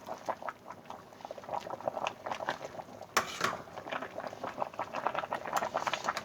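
Vegan lasagna filling simmering in a pot, a dense bubbling and pattering that stays steady throughout, with one sharper knock of a utensil midway through the stirring.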